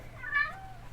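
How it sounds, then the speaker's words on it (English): A pet cat lets out a single short, close meow, clear and moderately loud against a quiet room background. "Sorry, my cat is being a dickhead, so ignore him."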